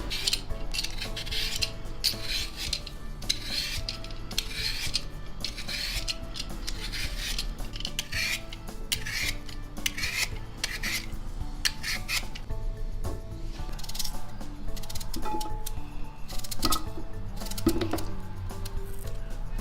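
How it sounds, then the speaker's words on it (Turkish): Steady scraping and rasping of a peeler against potatoes goes on continuously, with faint clinks of utensils in the background. "Ben patateslerimi soymaya başlayacağım."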